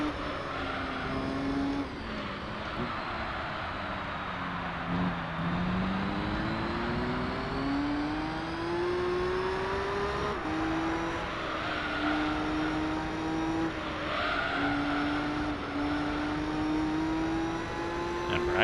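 A Nismo GT-R race car in Gran Turismo 3 holds a steady, loud engine drone, pitch rising and falling through gear changes and corners, continuous with no talk.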